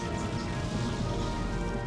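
In-game rain from the Pokémon Colosseum battle, a steady, even hiss of falling rain that holds at a constant level throughout with no breaks.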